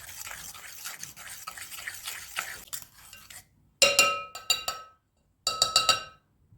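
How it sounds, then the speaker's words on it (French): A spoon stirs a mixture in a bowl, scraping softly at first, then giving bright clinks against the sides in two quick bursts separated by a short silence, close by with no talk. "Je vais mélanger le tout"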